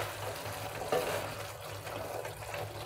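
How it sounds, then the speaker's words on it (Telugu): Brinjal and raw peanut curry with chopped coriander is stirred in a pan, a soft sizzle with scraping strokes and a sharp clink near the start, heard close and alone. "ఒకసారి కలుపుకుందాము."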